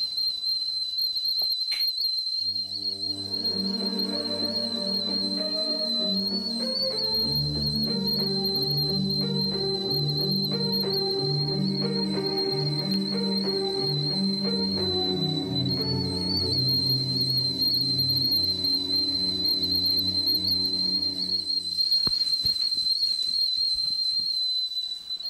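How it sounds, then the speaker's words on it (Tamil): A steady, high, sustained whistle holds one pitch almost continuously, with a melodic tune playing beneath it for most of the stretch and no talking. "இப்போ விசில் அடிச்சு கூப்பிடுறியா?"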